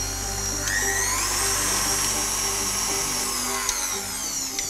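Electric mixer beating egg and vanilla extract into butter and sugar for iced ring biscuits, a loud, continuous high-pitched whir held close and steady, with brief scraping knocks against the bowl.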